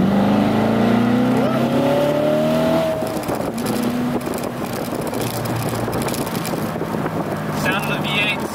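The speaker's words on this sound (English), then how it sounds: "Sound of the V8 sounds amazing." A 2016 Chevrolet Corvette Stingray's V8 engine revs up with a rising pitch for about three seconds, then settles into a loud, steady, rough drone of driving and road noise for the remainder.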